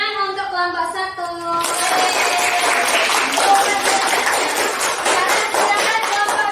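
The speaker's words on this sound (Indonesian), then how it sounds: "Tepuk tangan untuk kelompok 1" Applause for a student group in a school classroom, a dense burst of clapping from many children that starts after a stretch of voices and carries on steadily to the end.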